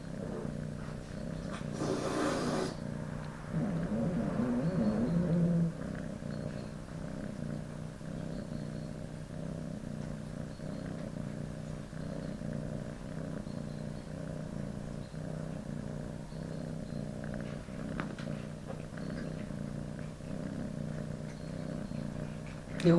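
A low, continuous rumbling purr, steady and close, with a brief rustle near the start and faint background noise.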